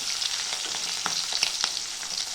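Garlic frying in hot oil gives a bright, close sizzle with quick spatter pops and light stirring across a brief stretch.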